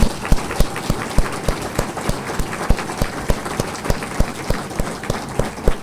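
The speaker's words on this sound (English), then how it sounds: "can we have a round of applause for our panelists?" Audience applause for panelists at a Lyme and tick-borne disease forum, heard as a steady rhythmic patter of claps with regular strong beats, fairly close and continuous throughout.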